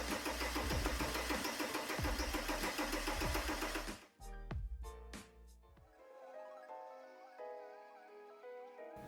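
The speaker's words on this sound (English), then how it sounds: "Now try starting the engine. The engine won't start and that's fine" A common rail diesel engine cranks without starting, with a loud, rhythmic starter churn for about four seconds, then stops, leaving a few clicks and a quieter tonal hum.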